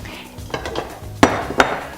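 Shrimp and asparagus get tossed into a cooking pan for a linguine, with a soft shuffle followed by three sharp metallic clinks and clatters spaced about half a second apart.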